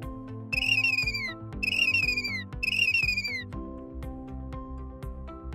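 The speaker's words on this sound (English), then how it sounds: "The chirp of a baby chick, for example, is usually a high-pitched sound." A baby chick gives three high-pitched chirps, each a bright, slightly falling call about a second long, spaced evenly over a soft background of steady musical tones.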